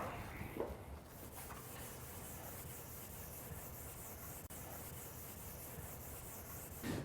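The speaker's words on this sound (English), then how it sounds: "Now I'm using the supplied scouring pad to break the gloss on the finish." A scouring pad rubs across a truck bed's painted finish to dull the gloss before an aerosol bed-liner coating, making a steady, quiet rasping scuff that continues almost without pause.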